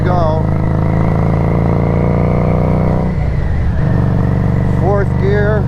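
A 2021 Harley-Davidson Street 500 motorcycle hums steadily at close range as it is ridden, its engine drone loud and continuous with a brief dip midway, and a voice speaks over it near the start and end.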